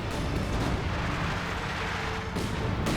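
Light artillery barrage pounding down in Company of Heroes 2, a continuous rumbling roar of dense, overlapping shell blasts and booms sustained throughout at steady loudness, with no voices.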